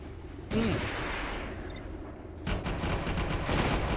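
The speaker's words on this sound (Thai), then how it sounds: "มีคนยิงมาแล้ว" Heavy weapon fire in the tank game Clash of Panzer, sustained rumbling bursts and booms at close range, filling the scene with a dense, noisy roar.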